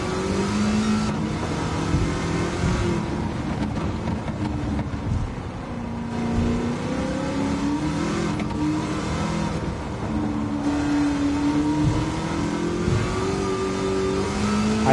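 An LS7 V8 swapped into a DeLorean roars and revs in Gran Turismo 7, a loud continuous engine drone that rises and falls through gear changes across several seconds.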